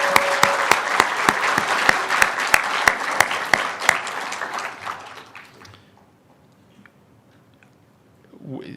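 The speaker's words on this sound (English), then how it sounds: "We can all applaud that" An audience at a political lecture claps together in a burst of applause, the dense clapping thinning out after a few seconds into a quiet hall with a faint voice near the end.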